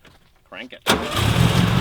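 A 1961 VW buggy engine is cranked and catches into a loud, rough idle right up close, after a brief spoken moment.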